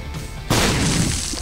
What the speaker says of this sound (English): we're going to drop a bomb on one of these